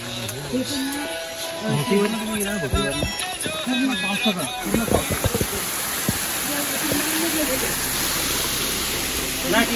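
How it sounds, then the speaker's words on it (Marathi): Small waterfalls pour into a deep valley beside the Khandas Ganesh Ghat route on the Bhimashankar trek, giving a steady broadband rush of water that runs throughout beneath people talking nearby. "या साईडला बघता खोल दरी आहे आणि छोटे छोटे धबधबे पडताना दिसतात"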